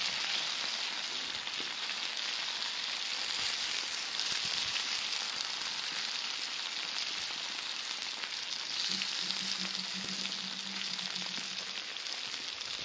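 Potatoes with meat and onions frying in lard on a sadj pan outdoors: a steady, dense hiss of frying fat with fine crackles, continuous and fairly loud throughout, with a brief low hum near the end.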